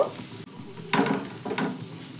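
Vegetables sizzle in a pan as salt, turmeric and chili powder are stirred through, with a low steady frying hiss and two scraping bursts of stirring, close and moderately loud, with no voices.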